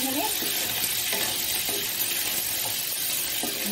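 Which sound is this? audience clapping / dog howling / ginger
ginger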